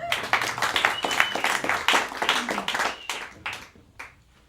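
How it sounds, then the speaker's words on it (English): An audience at a poetry reading in a village theatre applauds, a burst of dense clapping that gradually thins into scattered claps and dies away. "Applaud yourselves"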